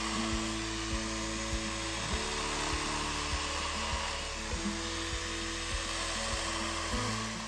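An Arbortech ALLSAW AS200X brick and mortar saw cuts brick and mortar on a heritage restoration job, a loud continuous motor whine with a steady rhythmic pulsing chatter, close up and without talk.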